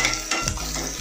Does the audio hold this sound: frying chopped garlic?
yes